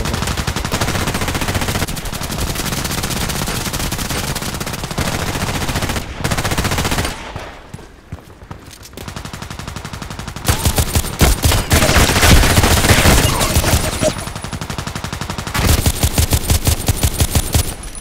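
Sustained bursts of automatic H&K 416c rifle fire in the video game Contract Wars, loud and close with rapid rattling shots, a short lull partway through, then renewed heavy firing.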